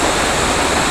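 Big river in Bohol flowing strongly, a dense, even rush of water heard close and loud for a brief moment, with no talking.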